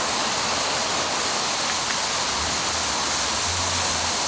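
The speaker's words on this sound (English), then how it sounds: "And then you can see all the misting" A water misting system sprays mist and fog over a sidewalk, a steady broadband hiss like a fine spray, loud and continuous throughout.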